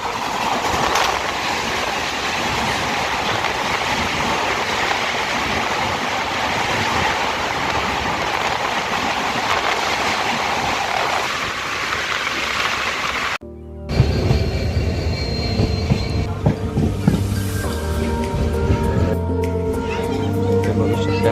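Diva passenger train on the Konkan route rolling along rails, a steady broadband rumble and rush for about thirteen seconds, then a sudden cut to quieter, tonal sound with some voices over the final stretch.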